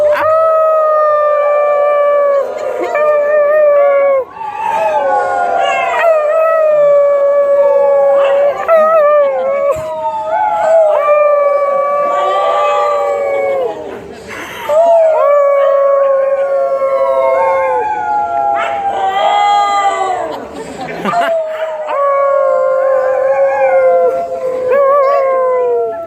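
Wolves at the San Diego Zoo animal show howl in long, loud, overlapping waves of rising and falling tones, with human audience howls mixed in throughout.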